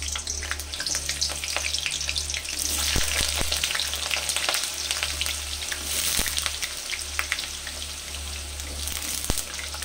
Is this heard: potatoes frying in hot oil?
yes